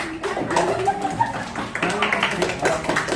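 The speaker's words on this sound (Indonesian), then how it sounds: "tepuk tangan untuk Reski juga" Audience clapping for Reski at a casual gathering, brisk claps mixed with voices talking over them throughout.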